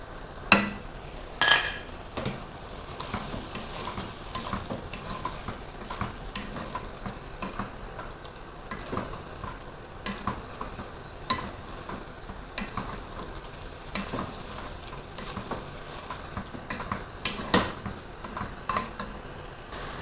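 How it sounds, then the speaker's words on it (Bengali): Ground spices, coriander, cumin, red chilli and turmeric, are sautéed in a pan, hissing steadily while a spatula scrapes and clinks in an irregular rhythm with a few sharper knocks. "ভালো করে কষাইয়ে নিতে হবে"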